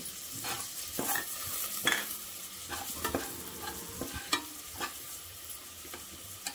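Tomato sautéing in a pan for a fresh tur (pigeon pea) dal amti: a steady sizzle broken by repeated scraping and stirring strokes from a spatula, close up, with no talk.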